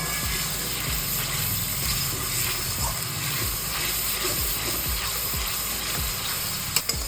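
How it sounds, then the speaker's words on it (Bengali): Onion paste frying in hot oil over a medium flame makes a dense, steady hiss, overlaid with repeated low scraping pulses from stirring. "মিডিয়াম ফ্লেমে পেঁয়াজটাকে কষিয়ে নিচ্ছি।"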